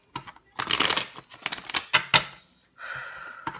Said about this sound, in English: Let's get this nice and shuffled.